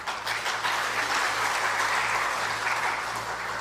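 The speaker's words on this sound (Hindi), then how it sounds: "यहां से तो ताली बजती है" A crowd applauds during a Hindi political speech, a steady wash of clapping at moderate level that holds for several seconds, with a low hum underneath and no words spoken.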